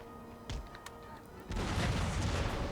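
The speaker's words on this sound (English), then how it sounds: "That was a nice cannon fire there." Cannon fire in the video game Empire: Total War, a dull boom followed by a heavier, sustained rumbling roar of battle, heard fairly faint and without talk.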